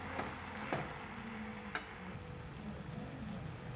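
Okra being stirred and fried in spiced dhaba-style masala in a pan, with a soft steady sizzle and a few light scrape and tap sounds from the spoon, fairly quiet and without talking.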